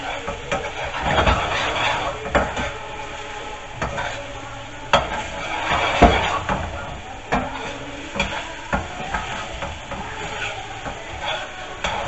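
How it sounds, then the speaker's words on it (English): Garlic and ginger paste with crushed dried fenugreek leaves fries in a pan for a chicken Madras, a steady close sizzle with occasional stirring clatters, while someone talks over it. "And cook that until the garlic and ginger is just starting to brown."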